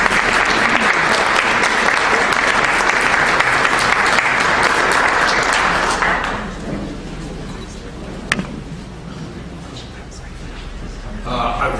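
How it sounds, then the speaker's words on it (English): A conference audience at a poverty event applauds as a speaker is welcomed, steady full-room clapping for about six seconds that then fades to a low murmur, with a single sharp knock partway through. "I'm here to thank you for the applause."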